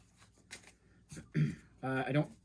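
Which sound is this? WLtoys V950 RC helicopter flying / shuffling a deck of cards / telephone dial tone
shuffling a deck of cards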